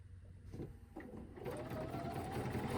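Sewing machine stitching a straight quilting line during ruler work, starting in short bursts and then running steadily at a moderate, close level with no talk.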